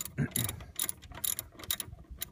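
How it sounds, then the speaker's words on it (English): A wrench works loose a 5/8 inch bolt on the motor of an electric 1969 VW Bug, making close, rapid ratcheting clicks in several short bursts. "what I'm going to do is just undo the 5/8 inch bolt right here"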